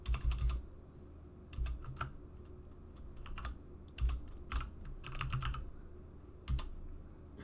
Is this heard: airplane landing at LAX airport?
no